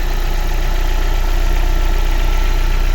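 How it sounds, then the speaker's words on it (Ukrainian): A Daewoo Lanos 1.5 engine idles steadily at close range after a head gasket replacement, a constant low rumble and hum with a faint rattle and no change in pitch. "Ось так працює наш двигунчик."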